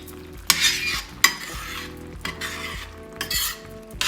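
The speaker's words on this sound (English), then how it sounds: "I'm just gonna leave that to simmer now." Peach cobbler filling with vanilla cooks in a pot under a low bubbling sizzle, broken by several sharp spoon scrapes and clinks against the metal as it gets stirred, close by.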